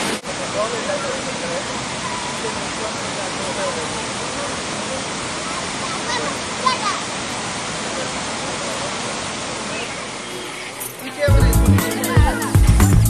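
Water from a spring in Orissa, India, rushes steadily in a broad, continuous hiss that stays fairly loud and even before the sound shifts near the end.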